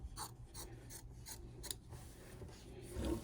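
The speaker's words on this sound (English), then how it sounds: "I'm going to trim off this excess fabric" Scissors trim excess fabric away from a piece of in-the-hoop machine embroidery, giving a series of crisp, close snips and rasping cuts in an irregular rhythm over a faint background hum.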